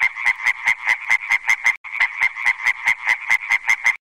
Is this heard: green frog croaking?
yes